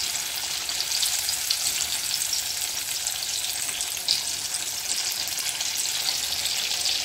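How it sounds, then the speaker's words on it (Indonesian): Egg rolls frying in a pan, a steady loud sizzle of hot oil that holds evenly throughout, close up with no voices. "Ini digoreng kembali sampai kecoklatan merata ya"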